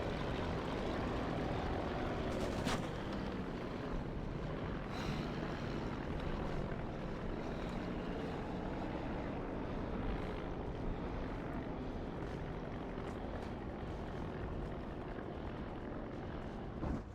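Steady low drone of a WWII propeller aircraft engine coming in to land in the IL-2 1946 flight sim, continuous and fairly loud throughout with no voices.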